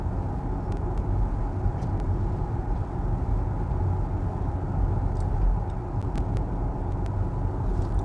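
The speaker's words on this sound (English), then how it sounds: "Ioniq 5 sounds quiet on the Norwegian road." A Hyundai Ioniq 5 electric car driving on a Norwegian road, heard from inside as a steady low road and tyre rumble with faint occasional clicks, quiet and even with no talking.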